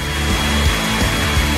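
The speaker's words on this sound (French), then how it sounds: "Comme avec un sèche-cheveux." A hair dryer blows with a steady, loud whooshing roar and motor whine, constant throughout with no talk.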